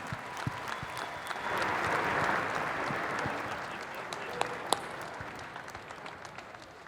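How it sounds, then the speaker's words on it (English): An awards audience applauds a custom 1985 Chevrolet C10 pickup, the People's Choice winner, with a broad swell of clapping that peaks early and tapers off, a couple of sharper claps standing out near the end. "A big round of applause for that C10."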